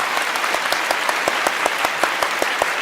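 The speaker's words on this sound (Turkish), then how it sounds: "O yüzden alkışlara dayanmak istiyorum." Studio audience of a Turkish television quiz show breaking into applause, loud steady clapping with distinct individual claps standing out throughout.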